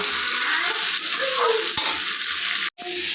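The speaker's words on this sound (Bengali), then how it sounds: "আলুটা সিদ্ধ করে নিচ্ছি, একটু ভাজা হলে জল দিয়ে দেবো" Potato pieces fry in a pan as the base for a potato and bata fish curry, giving a steady close sizzle broken by stirring scrapes and a brief near-silent gap near the end.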